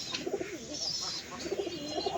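Pigeons in a loft coo close by in soft, repeated rolling calls that come in two clusters, with a faint higher chirp between them.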